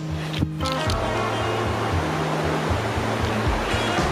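A river flows steadily in cold September water, making a continuous broadband rush with a low rumble beneath it and a brief splash near the start, close and fairly loud.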